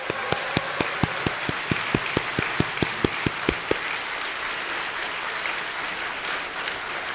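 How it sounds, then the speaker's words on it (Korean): A church congregation at a Sunday service claps in a brisk, even rhythm of about fifteen sharp claps. The claps stop partway through, and a quieter murmur of the room follows. "젊은이들을 위해 박수 한번 해주시면 좋겠습니다"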